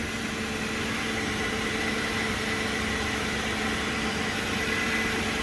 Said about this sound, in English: I had to make sure the engine ran